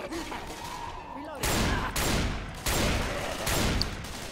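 Gunfire in the zombie shooter Left 4 Dead 2 bursts out in sustained rapid volleys of loud, dense shots, broken by brief pauses, with game voices and effects heard beforehand.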